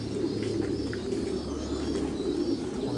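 Pigeons coo steadily at a pigeon farm housing about 500 pairs, a soft, continuous low warbling chorus from many birds close by, with a few faint chirps on top.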